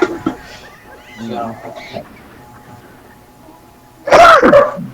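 Muffled talk, then a sudden loud, explosive cough or sneeze-like burst close by near the end.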